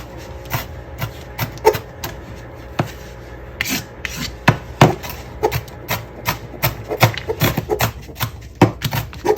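Onion chopped with a knife on a wooden cutting board, a loud series of sharp, irregular knocks and scraping rasps, some in quick bursts, close and alone without talk.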